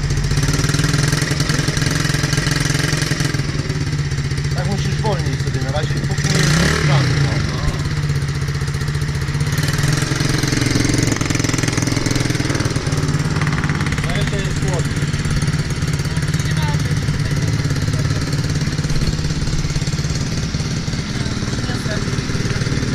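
A small motorcycle engine, newly bought and being started for the first time, running close by, idling roughly with a couple of brief revs, while people talk nearby.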